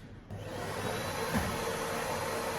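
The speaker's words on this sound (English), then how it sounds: "I think we're gonna start hoovering." Household vacuum cleaner running indoors, a steady broadband whir that starts just after a brief quiet moment and holds at a constant level throughout, with no talking.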